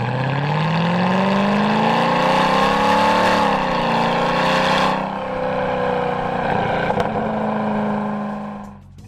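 A loud, continuous exhaust drone from a Mercedes SLK55 AMG with oval outlets rises in pitch, then settles into a steady rumble before fading.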